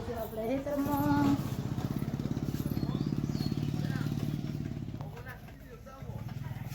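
Motorbike ride out to a farm field, its engine putting along in a steady close, throbbing drone, with voices talking over it at the start.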